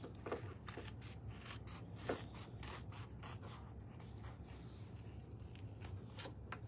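Quiet snipping and rubbing of scissors trimming fabric around a zipper, a few sharp cuts over a steady low hum.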